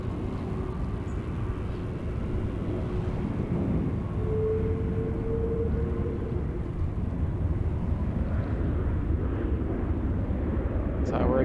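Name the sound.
Philippine Airlines airliner at Sydney Airport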